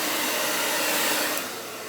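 Steady, loud rush of an air blower pushing wet red, green and gold acrylic paint across a canvas for a Dutch pour, holding strong before dropping to a lower, softer blast near the end.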